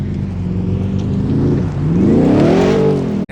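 A 2024 Ford F-150 Raptor R engine revs loudly off road on sand dunes, a steady close drone climbing in pitch over the last second and a half before cutting off.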